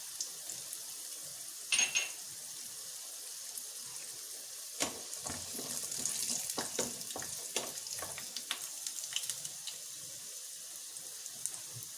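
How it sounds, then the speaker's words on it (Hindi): Garlic, ginger and cashews frying in a pan until light golden brown, a continuous close sizzle broken by sharp clinks and scraping stirs that bunch up in the middle. "लहसुन, अदरक और काजू हमारे हल्के गोल्डन ब्राउन होने तक भूंज गए हैं।"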